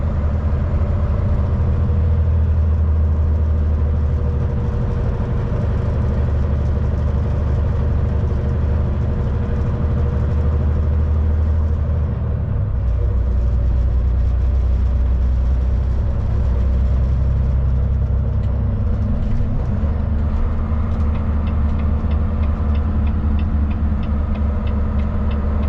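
A Euro style truck engine drones steadily as it climbs a hill, a loud continuous low rumble from inside the cab with a brief shift in pitch partway through as it downshifts.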